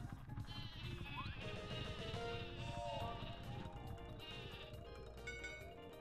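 A Sleepy Sheep item in Paper Mario lets out repeated cartoonish sheep bleats over busy game music and sound effects, with a steady, moderately loud mix throughout.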